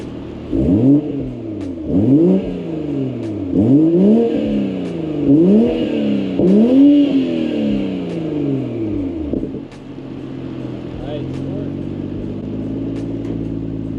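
A sports car engine revs sharply several times with its exhaust valves closed in comfort mode, rising and falling, then settles into a steady, fairly muted idle rumble.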